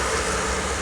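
A CSX freight train moving near a rail yard gives a steady, dense rumble and roar that fills the whole moment without letup, with no voices heard.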